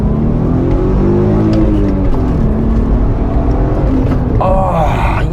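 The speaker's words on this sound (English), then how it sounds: "This engine is one of the all-time great sounding engines." A Volkswagen Golf R32 engine revs loudly and steadily, its tone rising and falling through several climbs before a sharper, higher-pitched rev near the end, with no voices over it.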